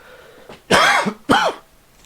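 Two harsh, raspy coughs close to the mic, one after another with a short pause, in an otherwise quiet room.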